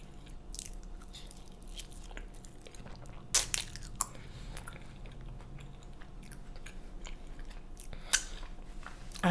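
Close, quiet chewing of cheesy asada fries with steak, avocado and cheese sauce, soft wet mastication broken by a few sharper crunchy bites, with no talking.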